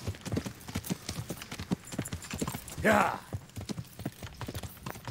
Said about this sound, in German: während wir in die Stadt reiten